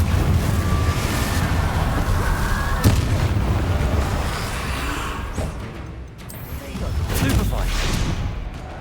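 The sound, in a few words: Confringo spell explosion from video game Hogwarts Legacy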